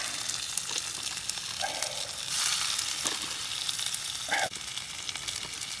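Continuous loud sizzling of chicken stir fry in a hot frying pan on a burner outdoors, with occasional scraping clatter of stirring close by.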